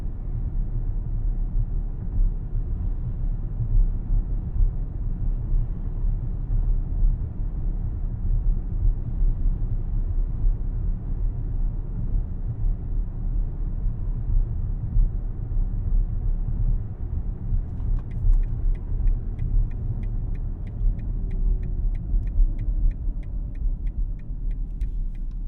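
A 2024 BMW XM's engine runs while driving, a steady low rumble inside the cabin that stays even throughout, with a faint rhythmic ticking joining late on.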